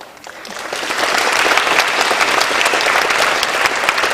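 An audience at a Power Shift 2011 talk bursts into applause, quiet at first then swelling within a second into sustained, dense clapping that stays loud to the end.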